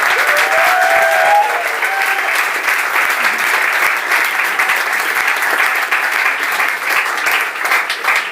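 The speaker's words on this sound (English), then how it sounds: "So please, a big round of applause for our debaters." A large audience gives debaters loud, sustained applause, a dense, steady wash of clapping that stays strong throughout, with brief whoops rising above it near the start.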